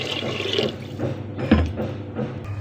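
Water splashes and trickles steadily into a cooking pot nearby while preparing paruppu payasam, a continuous liquid pouring sound with small gurgles and no talking.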